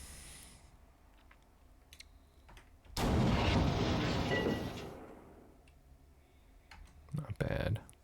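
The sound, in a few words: tank firing at an enemy in Armoured Commander II video game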